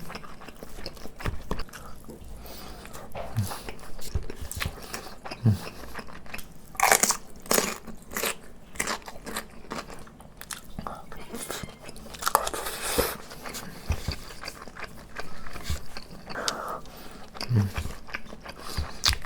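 Crunchy vegetables, served alongside fried rice, are bitten and chewed up close, with repeated crisp crunches in irregular bursts through a soft room background.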